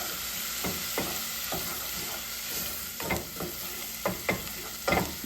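Cut-up sausage sizzles steadily in a pan while a utensil scrapes and stirs it in repeated strokes, the scraping growing louder toward the end, with no talk.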